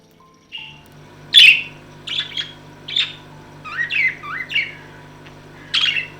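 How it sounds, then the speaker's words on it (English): A small gray budgie chirps and squawks in short, sharp bursts with brief pauses between, fairly close, over a faint steady background hum. "If your new budgie is singing near you, that's a great sign."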